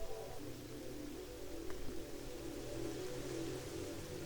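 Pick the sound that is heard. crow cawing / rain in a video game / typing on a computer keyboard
rain in a video game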